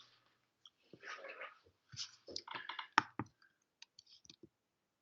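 Irregular clusters of close, crisp key clicks come from someone typing on a computer keyboard, with brief pauses and no talk.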